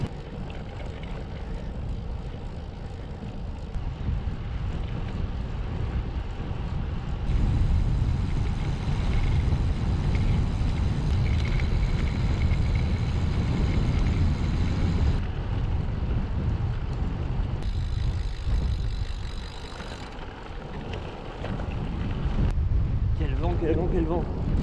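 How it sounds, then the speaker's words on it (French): Strong wind buffets the microphone while cycling on an open road in drizzle, a loud, steady low rumble that swells and gusts throughout, with brief dips in force. "Quel vent."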